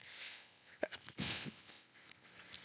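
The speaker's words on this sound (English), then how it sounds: "I'm gonna sneeze." A single human sneeze, soft and close, with a quick breathy intake before it and small mouth and breath noises around it in an otherwise quiet room.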